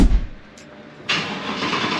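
Car engine cranking briefly and then catching, settling into a steady close idle after the start, with no talk over it.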